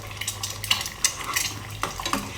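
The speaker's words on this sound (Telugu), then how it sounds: "ఇదంతా ఇలా కలిపేసేయాలి." A spatula stirs and scrapes beaten eggs in a hot pan for chicken egg fried rice, with soft sizzling under repeated metallic clinks and scrapes, close and fairly quiet.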